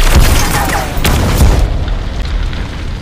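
A bus blows up in a terrorist attack on soldiers in an Indian action film scene, producing a loud, deep boom that swells for over a second and then fades into a rumbling tail.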